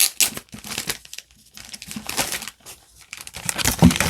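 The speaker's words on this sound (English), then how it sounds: "let me take this out of the plastic" Plastic wrapping being pulled and crumpled off a book, close, loud crinkling in uneven bursts with short pauses, no talking.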